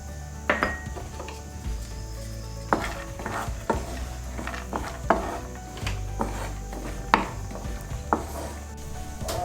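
Cashews frying in ghee in a pan give a low sizzle, broken by a series of sharp metallic clinks and scrapes from a spoon stirring against the pan.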